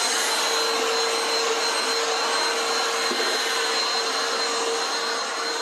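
A Black & Decker Platinum BDH2000L 20-volt lithium-ion cordless hand vacuum runs steadily at close range, a constant high-pitched whirring motor with no speech.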